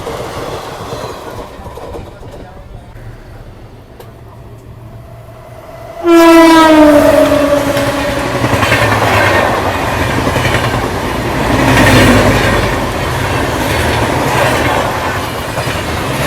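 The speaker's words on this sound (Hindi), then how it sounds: "तो अभी ये बगल से क्रॉस हो रही है नई दिल्ली गया स्पेशल, पूरा ICF कोचेस के साथ।" New Delhi–Gaya special train made up of ICF coaches passing close alongside on a parallel track, with a loud horn blast followed by steady rolling rumble and clattering wheels, no talk.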